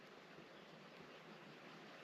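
Water flowing from a natural spring in a dry desert canyon, a faint, steady wash of trickling noise heard from a short distance with no talk.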